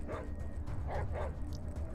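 Dog companion in the video game ATOM RPG barking and yipping in a few short bursts, set against a steady game background hum.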